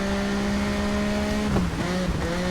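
A racing motorcycle engine in the TT Isle of Man game holds a steady high drone, then drops pitch and shifts through gears as the bike overtakes a rider, loud and close.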